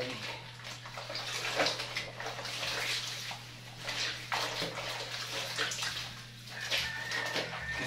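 A tap runs water for hand-washing laundry, a steady, close rushing and splashing stream over a constant low electrical hum.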